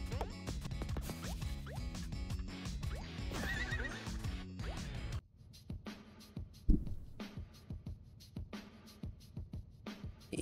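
A horse in the Pizza Tower video game gives a loud, drawn-out whinny over game music, followed by quieter scattered game sounds and thumps.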